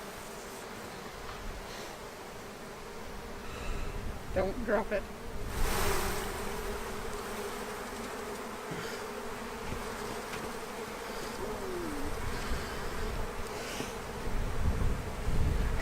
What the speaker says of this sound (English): Sorry, bees. They're so mad at me already.